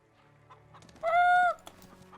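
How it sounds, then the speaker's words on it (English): Chickens clucking in the video game Pathfinder: Wrath of the Righteous, a short, clear, tonal cluck standing out over a faint, quiet game background. "Chickens."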